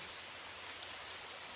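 Heavy rain pours down steadily in a jungle, a dense continuous hiss of drops on foliage and ground that is fairly soft in level and unbroken, with no voices or other sounds.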